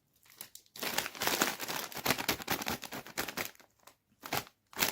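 A crinkly plastic bag of Lulu cheese snacks is torn and opened up close, with loud bursts of crackling and crumpling that pause briefly before resuming.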